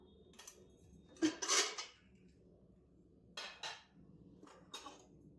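A pressure cooker containing a container of steamed pumpkin is opened, giving a few separate metallic clanks and scrapes of lid and pot in an otherwise quiet kitchen.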